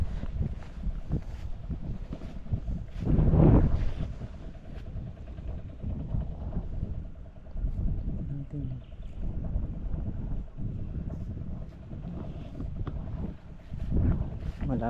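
Gusty wind buffets the microphone outdoors among calamansi plants, a low rumbling roar that swells into a strong gust partway through and again near the end, with some faint talk mixed in.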